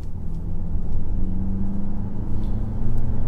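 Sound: BMW X1 xDrive23i accelerating and changing gear

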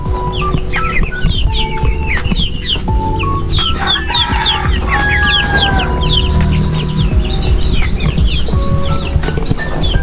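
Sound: gamecock chickens clucking at feeding time

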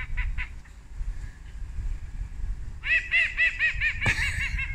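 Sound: geese being chased off

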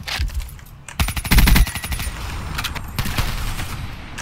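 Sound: gunfire in the video game Call of Duty: Black Ops 3

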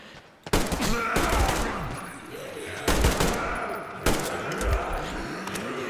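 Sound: automatic rifle gunfire, from the video game Metro Exodus

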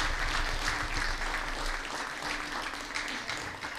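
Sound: audience applause after a folk dance performance

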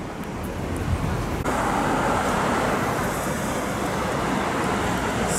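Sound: road traffic, many cars driving in Vladivostok

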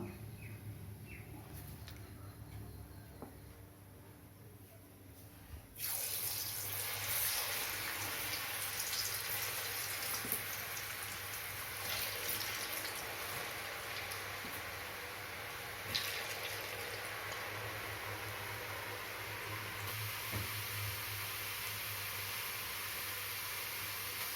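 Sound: potato finger chips deep frying in oil

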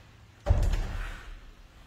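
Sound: door closing and opening

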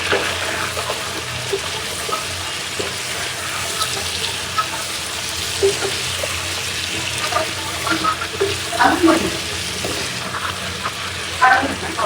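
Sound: pointed gourd and potatoes stir-frying in a pan

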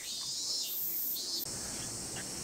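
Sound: cicadas buzzing near Tokyo Tower

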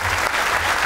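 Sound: studio audience applause

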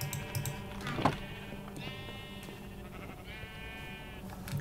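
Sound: sheep bleating in the video game Minecraft

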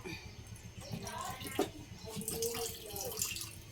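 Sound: adding water while cooking

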